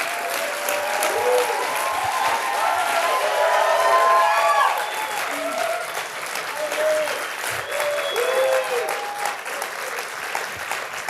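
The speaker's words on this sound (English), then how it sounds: "can we give him a huge round of applause for how he showed up for his family?" A workplace talk audience breaks into sustained applause, a dense wash of clapping with some cheering that swells and then eases, while voices speak over it.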